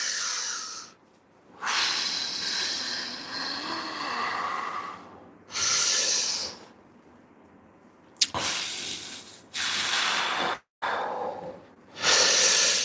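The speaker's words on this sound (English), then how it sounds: "I'm doing my Wim Hof breathing." Deep, forceful breaths drawn in and pushed out in a repeating rhythm, close and fairly loud, with short quiet pauses between long airy hisses during Wim Hof breathing.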